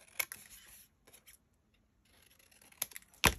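Paper being snipped with scissors while trimming the sides of a pink shabby chic paper craft: a few crisp, close cuts spaced apart, with a quiet pause in the middle and a sharper snip at the end.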